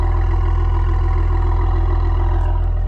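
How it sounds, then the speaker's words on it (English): A Maserati Quattroporte idles in sport mode, a loud, close, deep and evenly pulsing engine burble that holds steady throughout with no talking. "Even at idle, it's in sport mode right now, so it's a little louder than regular, but even at idle, this car sounds amazing"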